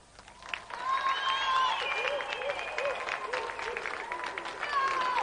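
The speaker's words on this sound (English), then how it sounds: "Round of applause for Aaron." Studio audience applause on a television games show, a broad steady wash of clapping that swells and holds for several seconds, with faint voices mixed underneath.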